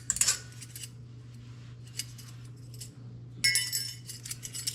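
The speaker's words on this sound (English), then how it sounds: "We're gonna pull the old ones off." Old metal brake pad clips pulled off during a front brake pad change, a few light metallic clinks and jingles in short bursts, quiet and close over a low steady hum, with no talking.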